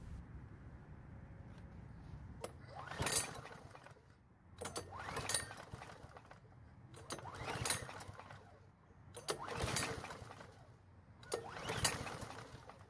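Weedeater lawn mower engine with a leaking carburetor being pull-started, four or five separate rasping cranking bursts spaced a couple of seconds apart, each cutting off without the engine catching.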